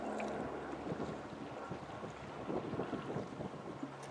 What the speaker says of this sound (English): That wind is increasing.